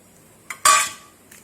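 Brief metallic clinks of a spoon mixing salt, pepper, chilli powder and turmeric powder in a dish, one soft tap followed by a louder scraping clatter, close and alone.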